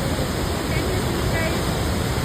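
Loud, steady roar of the river rushing at Gangotri in the Himalayas, a broad continuous wash of turbulent water that fills the whole clip without a break.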